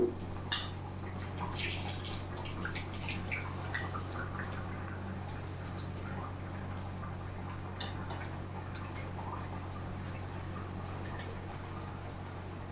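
Aloo bajji frying in hot oil, a steady low sizzle with small popping ticks and crackles throughout, with a few louder pops near the start and no talking.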